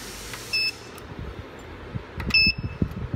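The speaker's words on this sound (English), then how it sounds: "Oh, it's alarm when we turn off this cable." A soldering robot sounds an alarm once its heating cable is disconnected: two short, loud electronic beeps, the first near the start and a longer one toward the end, over a quiet room hum and light handling noise.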